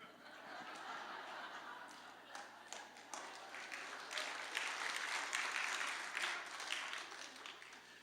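A church congregation at a revival meeting claps in a continuous, fairly faint wash of applause that swells toward the end, with scattered chuckles and murmuring voices mixed in.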